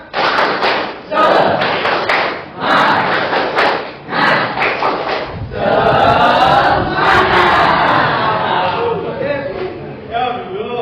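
A classroom of pupils performs a rhythmic spirit clap in unison, loud repeated bursts of clapping and chanting voices that break into a longer, continuous stretch of group noise.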